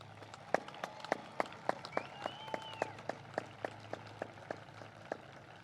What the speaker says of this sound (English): May we please have another round of applause for this outstanding class.